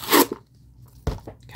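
A fruit peel tears off in two crisp crunching bursts, close and fairly loud, separated by a quiet gap with faint rustling.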